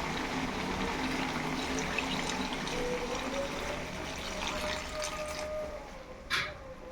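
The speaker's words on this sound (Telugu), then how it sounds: "కొద్దిగా నీళ్ళు వేసుకున్నాం" Water is poured into a pot of country chicken curry, a steady, close splashing rush lasting several seconds with no talk.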